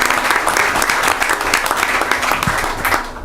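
Sustained applause from the audience at a city council meeting for award winners, a loud, dense wash of many hands clapping with a few sharper individual claps, tapering slightly at the end.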